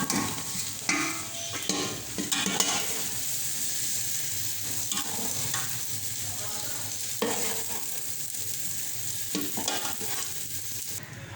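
Okra frying in hot oil, with a constant close sizzle and intermittent scraping of a spoon stirring and lifting the pieces out of the pan.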